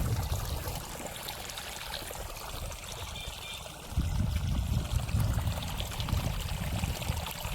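Irrigation water running steadily through a farm field in a village, a continuous rushing flow that grows louder partway through, with no voices.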